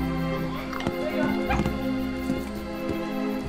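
A dog yips and whimpers in the Roblox game Break In 2, a few short high cries scattered across the moment while people talk over it.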